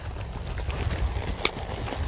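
Horse hooves clip-clop on a street in Trinidad, Cuba, a few soft, irregular steps heard at a moderate distance among low background noise.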